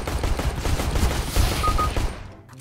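Rapid automatic gunfire in CS:GO on Dust 2, a dense burst of shots lasting about two seconds before cutting off sharply.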